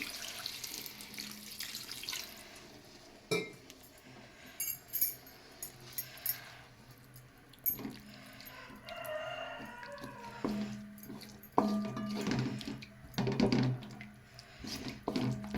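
Water is poured from a tap into a pan of tomato curry on a kitchen stove, giving an irregular splashing and trickling with clattering bumps, near and moderately quiet, with no talking.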